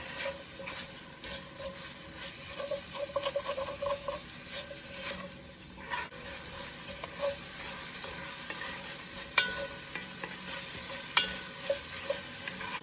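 A spoon scrapes and stirs through a pot of chicken stew that has just been salted, quietly and with a gentle sizzle underneath, the stirring strokes coming in small clustered bursts with no voices.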